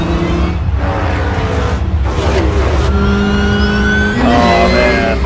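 Race car engines roaring and revving in an animated Cars 3 trailer, loud and continuous with rising, sweeping pitches layered over a dense low rumble.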